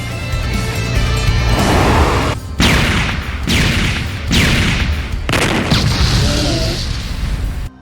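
An anime character's blood-formed weapon fires on a giant in a series of heavy, booming blasts, about five loud explosive bursts with crashing rumble between them and a brief gap early on.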